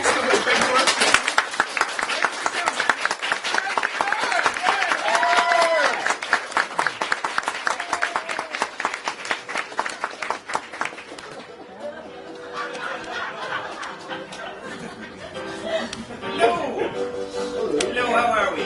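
Theatre audience clapping at an evening tribute performance: rapid, dense rhythmic clapping for about eleven seconds, then quieter murmuring chatter and scattered voices as it dies down, with people talking throughout.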